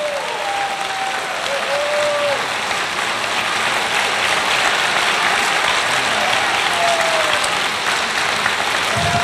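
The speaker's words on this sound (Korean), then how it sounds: "박수로 환영하겠습니다." A large congregation at a church prayer rally claps steadily for several seconds to welcome a former prime minister, a dense, loud wash of applause with faint tonal sounds drifting through it.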